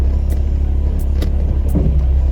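A Porsche 924S engine idles steadily with a low, continuous rumble, close by, with a few faint clicks over the top.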